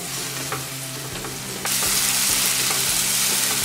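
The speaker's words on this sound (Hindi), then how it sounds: "गैस के बड़े फ्लेम पे हमने प्याज को 3-4 मिनट के लिए अच्छे से भून लिया है।" Grated onions fry hard in a hot pan over a high gas flame, giving a dense continuous sizzle that grows louder partway through, with regular scraping stirs; no one speaks.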